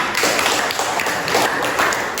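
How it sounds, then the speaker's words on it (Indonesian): Classroom audience of teachers applauding in a school setting, dense continuous clapping from many hands, loud and close without pause. "Oke, tepuk tangan."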